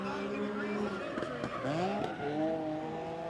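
A 300 horsepower S54-engined BMW E36 drift car enters a corner at big angle, engine wailing and dipping with tire squeal over it while a commentator talks throughout.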